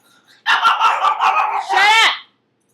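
Several pet dogs bark loudly and close up in a rapid burst of overlapping yaps, ending in a longer strained howl-like bark, then silence.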